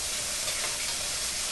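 Bacon sizzles in hot pan oil as it is basted, a close, continuous bright hiss and crackle holding at an even level throughout the short moment.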